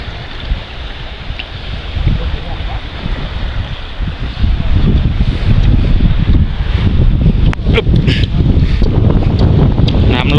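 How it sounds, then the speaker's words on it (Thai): Strong wind blows across open water during traditional local fishing, with a steady roar that builds into louder, buffeting gusts against the microphone about halfway through. "ลมแรง"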